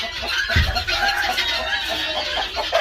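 A chicken clucks in short, irregular bursts at close range on a farm, over a busy, rustling background.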